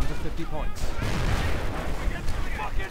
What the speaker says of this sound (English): And mortar fire opening up.